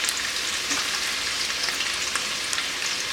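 Two large finely sliced onions fry in hot oil for a chicken pulao, giving a steady, close, loud sizzle that holds even and unbroken throughout with no talking.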